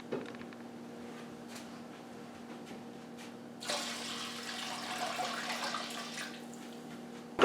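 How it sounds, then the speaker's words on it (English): Cold water pours into a large stockpot holding a ham bone on a stove, a steady rushing stream that starts partway through after quiet hiss and continues at moderate loudness. "I'm going to add 6 quarts of cold water to this"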